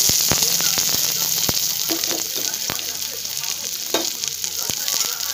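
A bay leaf sizzles in hot oil in a wok while mutton ghugni is being made, a steady close frying hiss with scattered sharp crackles and pops throughout, no talk.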